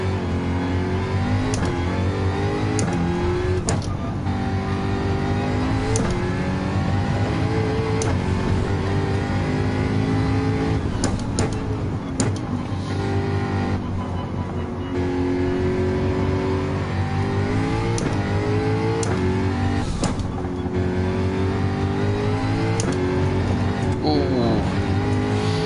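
Group 3 race car in Gran Turismo 7, an engine droning and revving continuously through gear changes, with brief tire squeal; a voice talks over it throughout.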